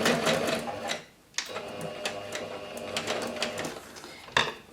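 Sewing machine stitching fabric scraps, a close, steady mechanical whirr in two runs separated by a short pause, with a brief burst at the end.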